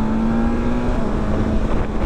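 A 2020 BMW S1000XR motorcycle pulls hard in third gear at full throttle, its engine a loud, steady, rising tone mixed with heavy wind rush.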